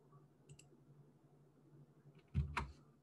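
Computer mouse clicks on a software dropper tool: a faint tick early on, then a sharp double click near the end, close and quiet, with no talking.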